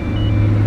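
The V8 engine of a Chevrolet Corvette C8 starts with a loud, steady low rumble, heard up close with no talking.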